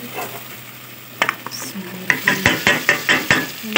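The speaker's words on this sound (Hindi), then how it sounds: "डाल दी गोभी। तो चलो अब इसको अच्छी तरह भूनते हैं।" Cauliflower tossed into a pan with fried chicken for a gobhi gosht curry, frying with a steady sizzle and a run of rhythmic scraping stirs from a spatula, close and fairly loud.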